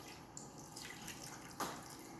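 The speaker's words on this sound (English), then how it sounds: "I'm going to pour the rest in" Banana cream pie filling is poured into a pot on a stove, making a faint, continuous liquid trickle with a small splash near the end, close by and quiet.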